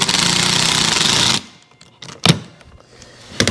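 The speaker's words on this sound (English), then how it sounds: "And you just want to drive these screws in," A power driver whirs loudly for over a second as it drives screws into cabinet wood, then cuts off, followed by a few sharp knocks and handling clatters nearby.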